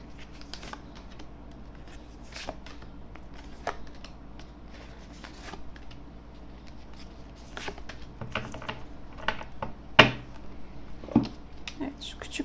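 Tarot cards are shuffled and handled close up, with soft repeated riffles, slides and taps over a steady low hum, plus a few sharper snaps toward the end, and quiet talk at times.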